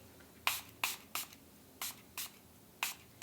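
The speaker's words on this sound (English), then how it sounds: "you always want to spray your face with some setting spray" Seven short, sharp hisses of a makeup setting spray bottle pumped at uneven intervals onto a face, close and crisp against a quiet background.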